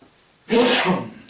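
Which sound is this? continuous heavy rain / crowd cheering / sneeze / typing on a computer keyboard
sneeze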